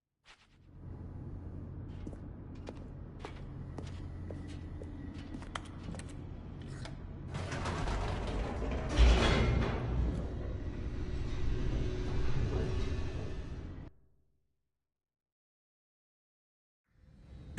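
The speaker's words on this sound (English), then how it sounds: "The elevator raced downward, plummeting towards an unknown fate." An elevator descending in The Stanley Parable, a steady low mechanical rumble that swells louder partway through, then cuts off abruptly into silence.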